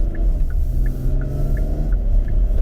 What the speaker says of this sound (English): Get some noise from the road itself